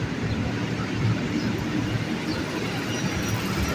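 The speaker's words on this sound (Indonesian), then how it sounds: "ini KRL yang gua naikin tadi udah mau jalan lagi nih ke Kampung Bandan via Manggarai" A KRL JR 205 series electric commuter train, 12 cars, about to depart Manggarai Station, Jakarta, rumbles steadily at close range, a low continuous rolling drone with faint mechanical clatter throughout and no voices.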